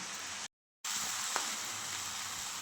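Peas sizzle steadily as they fry in a pan for aloo matar, a close and continuous hiss broken by a brief silent gap.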